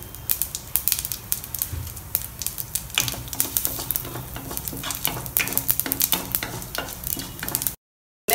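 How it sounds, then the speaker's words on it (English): Mustard seeds and urad dal sizzle and pop in a tablespoon of hot oil, giving a steady crackling hiss with dense sharp pops that grow busier partway through, then stop abruptly near the end. "heat a tablespoon of oil, add some mustard seeds"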